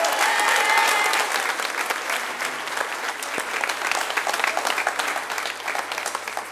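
A church congregation applauds during thanks at a festive Mass in Vauréal, with dense, sustained clapping filling the room and easing slightly toward the end.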